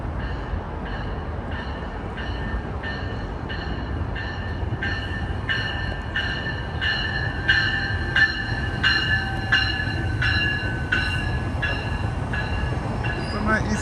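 A westbound GO train passes Exhibition station in Toronto, a continuous rumble of wheels over rails with a rhythmic clacking of railcars going by at regular intervals, fairly close and steady.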